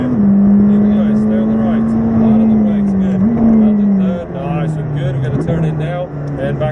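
McLaren 620R engine pulling hard on the Silverstone circuit, a loud steady in-car drone that dips briefly as the car comes back on the power, with an instructor talking over it.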